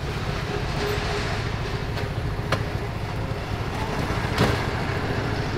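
A Yamaha X-Max scooter rides through congested traffic, its engine and wind noise forming a steady low rumble, broken by a few brief, sharper bursts of passing sound.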